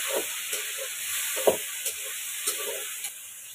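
Ginger-garlic paste being stirred in a hot pan, a steady sizzling hiss with a few soft scraping stirs and small pops spaced across the stretch.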